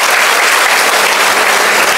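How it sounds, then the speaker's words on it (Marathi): Loud, dense applause from an audience at a teachers' gathering fills the whole stretch, steady and unbroken with no voices over it. "जोरदार टाळ्या होत्या"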